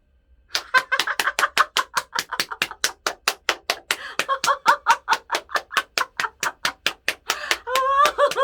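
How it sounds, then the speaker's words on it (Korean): A group at a church new-members class clapping loudly in a steady, fast rhythm while laughing for several seconds, the claps close and sharp with laughter rising near the end. "최대한으로 웃으면서 큰 소리로 박수 치면서 웃는 거예요"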